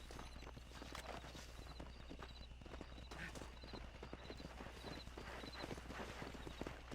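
Horse hooves clip-clop at a steady walking pace in the Western video game Red Dead Redemption, a continuous rhythmic patter of hoofbeats with faint background ambience and no talk.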